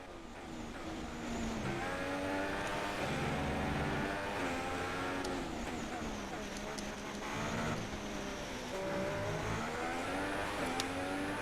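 Race car accelerating hard around a Malaysia track in a racing game, engine revving up through rising gear-shift sweeps with repeated climbs in pitch, loud and close, a voice talking underneath.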